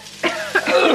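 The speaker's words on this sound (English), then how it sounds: "Sorry, I keep coughing because it's so strong" A person near the microphone in a kitchen full of Cajun spice smoke clears their throat and then coughs in a few short, harsh bursts.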